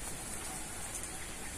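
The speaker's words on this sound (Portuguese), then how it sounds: "Olha lá, pinga a chuva também lá." Rain patters steadily on a surface, a dense, even wash of drips with no voices.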